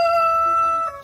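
A rooster crows once, loud and close, a single sustained cock-a-doodle-doo with no voices around it.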